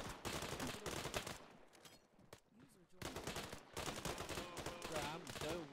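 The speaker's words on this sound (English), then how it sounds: "In front of a firing machine gun if you go." Machine gun fire in a first-person shooter game, sustained rapid bursts that fill most of the stretch with a brief lull in the middle, loud and close, with voices talking beneath the gunfire.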